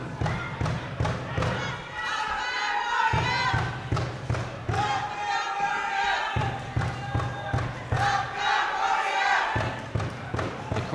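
A boxing crowd in Swindon cheering for fighter Haidary during a bout: a continuous, swelling roar with rhythmic chanting pulses and repeated thumps, loud and steady throughout.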